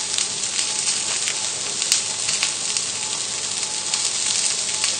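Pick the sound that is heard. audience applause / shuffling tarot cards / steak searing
steak searing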